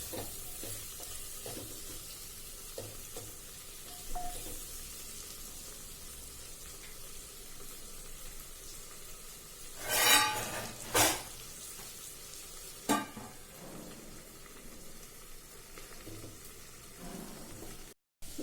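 Onions and tomatoes with a pinch of salt frying in a pan for a tomato onion curry, a steady close sizzle throughout with a few louder bursts of stirring and scraping near the middle.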